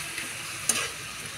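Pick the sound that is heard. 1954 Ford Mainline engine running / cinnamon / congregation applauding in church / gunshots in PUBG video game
cinnamon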